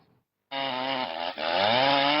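A chainsaw roars to life after a moment of near silence, its engine steady and loud with a brief dip before revving higher, as shea butter trees are felled.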